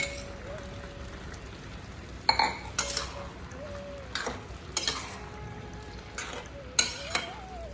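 Prawns dropped into a pan of simmering ash gourd curry, with intermittent spoon scrapes and clinks against the pan over a low steady bubbling, close and moderately quiet.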